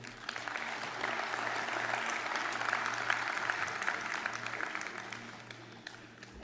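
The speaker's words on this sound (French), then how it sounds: "je vous demande de l'applaudir chaleureusement" An audience gives a guest warm, steady applause at a talk or gathering, a continuous, fairly distant wash of many hands clapping that holds evenly before tapering off at the end.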